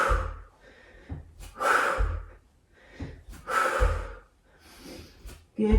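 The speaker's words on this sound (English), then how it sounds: "Nice big noisy exhales." Forceful, noisy exhales from a person doing yoga HIIT kicks, coming in repeated rhythmic bursts of breath with short gaps between them, close and fairly loud.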